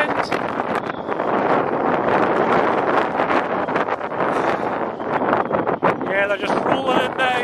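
Strong wind buffets the microphone on a stormy stretch of the Moray coast with rising tide, a continuous loud roaring rush with gusty surges throughout. A voice speaks briefly near the end.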